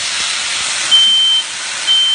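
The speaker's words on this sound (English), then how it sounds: "My smoke detector is real sensitive." A high, steady electronic smoke detector beep sounds twice over a loud hissing background of food cooking on a stove, each tone lasting about half a second.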